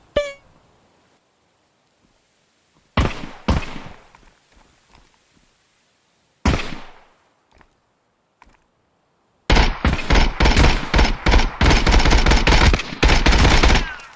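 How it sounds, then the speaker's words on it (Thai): Gunfire in the shooter game Contractors Showdown: Exfil Zone, with a few isolated loud shots separated by silence, then a sustained burst of rapid automatic fire near the end. "โอเคหาที่แอบก่อนใครยิงฉันวะ"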